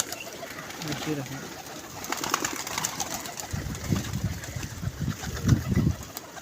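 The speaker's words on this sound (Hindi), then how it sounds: "नहीं यार कबूतरी है" A female pigeon at a pigeon club gives several low, soft coos in a loose rhythm, growing clearer toward the end against a steady murmur of background noise, with faint voices nearby.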